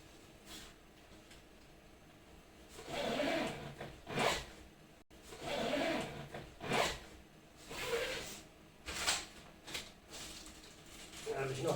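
Zipper on a pocket of a camera case being pulled open in repeated short rasping strokes, fairly close and moderately loud, with rustling of cables and gear between pulls; no one speaks.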